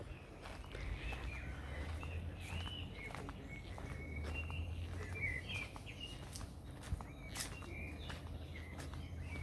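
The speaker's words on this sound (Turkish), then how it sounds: "kuş seslerini duyuyorsunuz değil mi?" Birds chirp and trill repeatedly at a moderate distance over a steady outdoor hum at a tent and caravan campsite in Çıralı, Antalya, with occasional footsteps crunching nearby.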